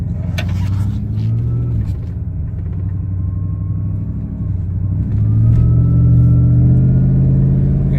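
Modified 2012 Toyota Tundra DoubleCab TRD Sport with over 600 horsepower and a built race transmission idling with a deep rumble, then pulling away from a light as the engine note swells louder and rises.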